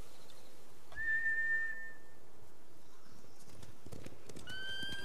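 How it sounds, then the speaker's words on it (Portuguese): Samurai horses in Ghost of Tsushima, with two drawn-out whinnies, one early and one near the end, rising over a soft game ambience, along with faint hoof sounds. "Os malditos espantaram os cavalos."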